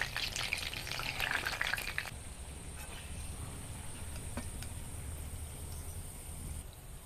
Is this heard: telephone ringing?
no